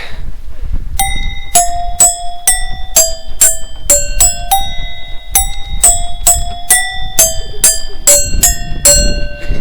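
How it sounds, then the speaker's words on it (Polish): An outdoor chime instrument with bells, played by striking it with a mallet near a lake in the Alps, rings out a series of clear, bright metallic notes in an uneven melody over wind and outdoor noise. "Tutaj mamy te organki z dzwonkami"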